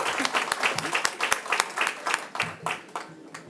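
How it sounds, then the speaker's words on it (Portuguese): Applause for a panel table at a closing session, a few seconds of uneven, fairly close clapping from a small group, individual hand claps distinct, fading toward the end. "Salve de palmas para a mesa."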